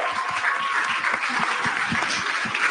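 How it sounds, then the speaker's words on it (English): An audience at a Caribbean youth climate conference gives a steady, continuous round of applause at moderate volume, with no voices over it. "I think we need a little bit more applause."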